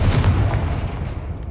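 Confringo fire spell explosion in the Hogwarts Legacy video game, a booming low blast at the start that rumbles on and slowly fades across the short clip, with no talk.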